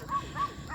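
A small black dog gives short, close yips and barks in a quick run of three, over noisy background.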